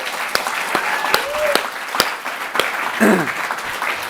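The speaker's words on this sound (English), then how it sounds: "So a huge round of applause for all of our shortlistees." Scattered audience clapping at an awards ceremony honouring shortlisted entries, sparse distinct claps rather than a full ovation, with a few voices and murmurs underneath.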